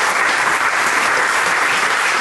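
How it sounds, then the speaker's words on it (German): An audience claps steadily, a dense wash of applause from many hands with no pauses. "ein großer Applaus für das soziale Engagement"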